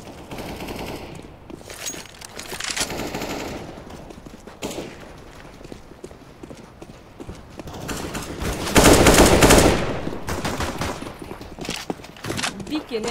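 Video game gunfire with rapid machine-gun bursts and single shots, a loud peak of fire partway through, mixed under a player's excited talk on a live mic.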